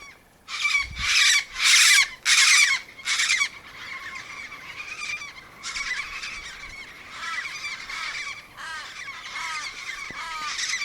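Harsh squawking calls from a crow or raven harassing cockatoos on the Nullarbor Plain, several loud, close, drawn-out caws early on followed by a quieter continuous chatter of raspy bird calls.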